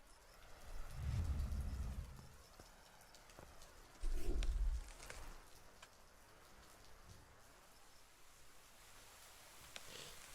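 Rain falling in the Deiland farming game, a soft continuous patter with two louder low rumbling swells near the start and middle, heard alone without talk.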